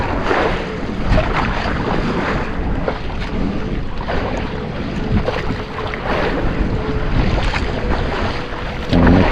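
Big sea waves wash and slap around a small fishing boat off Cavite, under steady gusting wind and microphone buffeting that fill the whole scene with broad, continuous noise and no talking.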